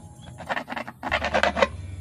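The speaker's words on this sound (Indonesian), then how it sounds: "kita bisa menggunakan gergaji ini guys" A small hand saw rasps through material to cut an oval hole, with close, uneven back-and-forth strokes in two bursts.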